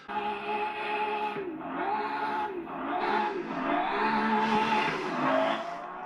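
A drift car at full throttle in fourth gear at the RDS Igora Drive competition, its engine screaming continuously with rising and falling pitch as the handbrake skid and tire squeal blend in, loud and close throughout.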